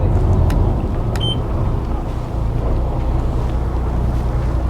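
Twin engines of a 2020 Sunseeker Manhattan 52 motor yacht rumble steadily and low while the starboard engine is given a little power to swing the boat round, with some wind noise and no talk.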